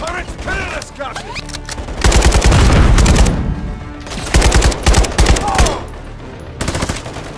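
Turret machine gun fire in the Call of Duty: Modern Warfare 3 campaign, loud sustained automatic bursts in several long volleys with short gaps between them, heavy and close, with booming impacts mixed in.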